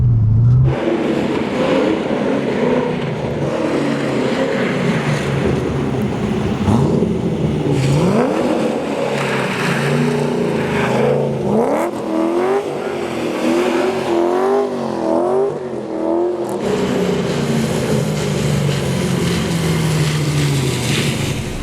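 A 1999 Nissan Skyline R34 engine revs hard and continuously in first gear, pitch climbing and dropping repeatedly, loud and close throughout with no talking.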